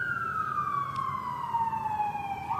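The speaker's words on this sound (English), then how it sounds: "It's not so much because the siren's going by" An emergency vehicle siren passes by in the street as one long, clear wail whose pitch slides slowly downward, heard at moderate distance over low background rumble.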